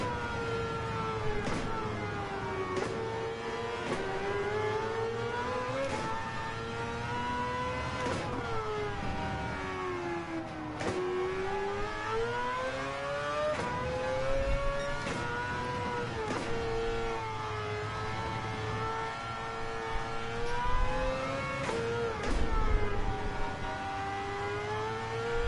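A car engine revs up and down repeatedly during a racing lesson, the pitch climbing with each acceleration and dropping between shifts and corners, steady and close throughout.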